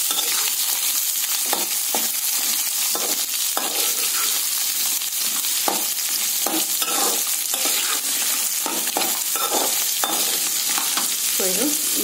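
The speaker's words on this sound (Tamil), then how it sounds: "இது கூட சின்ன வெங்காயம் சேர்த்து வதக்கிக்கலாம்" Small shallots sautéing in a pan for tamarind rice give off a steady, close sizzle, with scattered scraping stir strokes of a spatula breaking through at irregular intervals; no voices.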